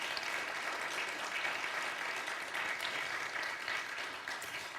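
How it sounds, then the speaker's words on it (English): Church congregation applauding a worship team, a steady dense wash of clapping that holds evenly for the whole stretch with no voices over it. "I think we should give them a round of applause again."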